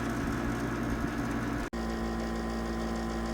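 A GE Slumberline window air conditioner running on low speed gives off a steady, even hum with a low droning tone, briefly cut out once partway through.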